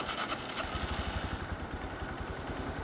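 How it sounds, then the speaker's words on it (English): A 2022 Honda Grom motorcycle idles on its stock exhaust, a steady, low, even putter with a quick pulsing rhythm, close and moderately loud throughout. "it's time for a stock exhaust sound check"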